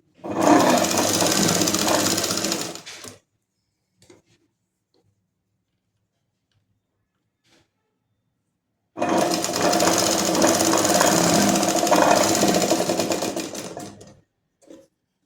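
A sewing machine stitches lace onto a sleeve in two loud, close runs of rapid needle chatter about three and five seconds long, separated by near silence with a couple of faint handling taps.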